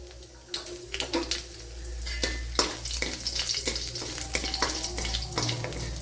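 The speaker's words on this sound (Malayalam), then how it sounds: "ഇതിലേക്ക് ഇനി വറ്റൽമുളക് ഇട്ട് കൊടുക്കാം" Dried red chillies go into hot coconut oil with mustard seeds, setting off a busy, close sizzle full of sharp crackles and spitting pops that come in quick bursts over a low steady hum.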